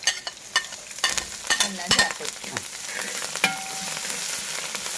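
Garlic, cinnamon, cloves, ginger and green chili sizzle in hot oil for a mutton dish, with a steady close frying hiss broken by scattered spoon scrapes and stirring clinks, and no talking.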